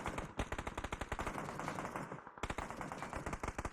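Rapid automatic rifle fire in the shooter game PUBG during an aim sensitivity test: two sustained bursts of evenly spaced, sharp shots separated by a brief gap, close and loud with no talking.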